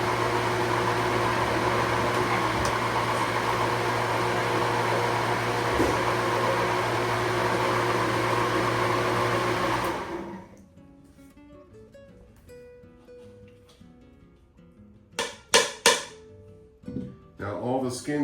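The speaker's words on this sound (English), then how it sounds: "Normally, I'd let the machine continue to run" Fabio Leonardi MR10 electric tomato crusher running: a steady motor hum and whir for about ten seconds, then the motor cuts off, leaving quiet handling noises and a few sharp knocks.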